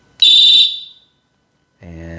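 An electric whistle gives a loud, shrill electronic tone for about half a second, then after a short silence switches to a lower, buzzy, harmonic-rich tone that continues steadily to the end.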